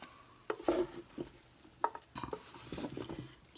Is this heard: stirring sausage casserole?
yes